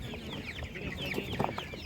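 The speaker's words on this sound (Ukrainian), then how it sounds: "Ось така гарна курка" Several chickens at an animal market in Khryplyn, Ivano-Frankivsk, cluck and chatter continuously at close range, with overlapping calls and a rooster-like squawk rising briefly near the end.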